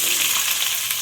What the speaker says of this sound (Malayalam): ഇനി നമുക്ക് സവാള ഇടാം.